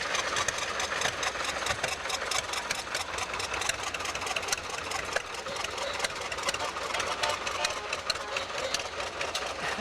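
John Deere tractors rolling past in a fall fair parade in Port Alberni, a steady mid-pitched engine drone with idling chug and faint knocking, continuous and fairly even at moderate distance.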